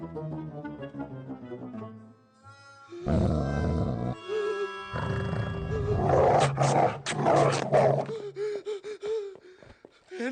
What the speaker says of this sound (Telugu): అదే కుక్క. ఓరి దీని, ఇది మళ్ళీ వచ్చిందా?